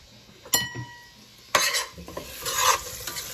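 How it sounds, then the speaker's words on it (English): Sliced potatoes sauteing with leeks in a pot give off a steady sizzle, broken by a few sharp stirring scrapes and clinks of a utensil against the pot, close and fairly loud. "I'm gonna put it in a pot right here. So what I want the potatoes to do is saute with the leeks"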